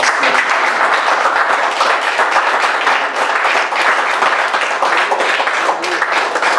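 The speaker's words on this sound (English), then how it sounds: "Give the Lord a hand clap." A church congregation claps their hands during a Sunday service, a dense, sustained patter of many hands that stays at an even, fairly loud level from start to finish.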